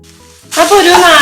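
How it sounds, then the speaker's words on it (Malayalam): Capsicum hitting a hot pan and sautéing, a sudden loud sizzle bursting in after a quiet start and holding steady and close to the end. "അതിലേക്ക് നമ്മള് ക്യാപ്സിക്കം ഇട്ടിട്ട് ഒന്ന് നന്നായിട്ടൊന്ന് വഴച്ചെടുക്കാൻ പോവാണ് കേട്ടോ"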